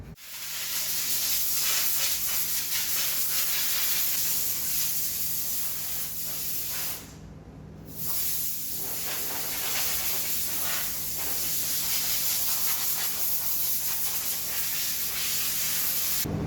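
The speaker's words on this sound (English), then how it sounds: "we're going to spray it like that and get it in the gun through the filter up there" Spray gun with a 1.8 setup hissing steadily as it applies thinned paint to a Mazda MX-5 NC front bumper, close and loud with one brief pause mid-pass, and no talk.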